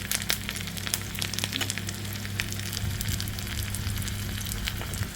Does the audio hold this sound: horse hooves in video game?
no